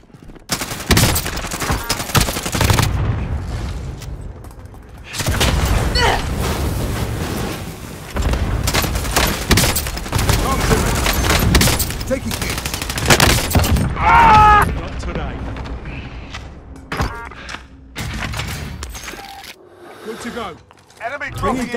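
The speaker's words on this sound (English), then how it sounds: "Enemy cluster strike incoming." Heavy blasts and gunfire from a cluster strike in Call of Duty: Modern Warfare, a long loud rumbling barrage broken by brief lulls, with game voices and radio chatter over it.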